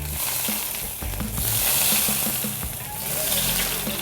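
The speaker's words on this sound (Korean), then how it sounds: "지금 세 번씩 뒤집었으니까 3분 정도 구운 것 같아요" Pork searing in a frying pan gives off a steady, loud sizzle that swells and eases, with the occasional soft knock of cookware and a voice talking over it.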